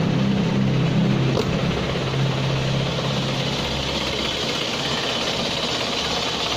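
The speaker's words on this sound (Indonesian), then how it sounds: "Nah itu ya suara mesinnya." An engine runs with about 500 ml of vegetable cooking oil added to its engine oil, giving a continuous, even droning hum at steady volume throughout, with no talk.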